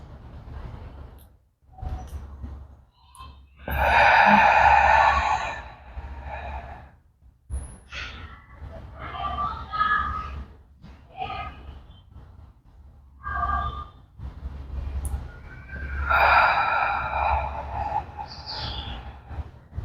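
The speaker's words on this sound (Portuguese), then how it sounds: "Solta o ar. Inspira." Heavy breathing during a home exercise workout, long audible exhales and sharp inhales repeating in cycles, close and fairly loud with no talk over them.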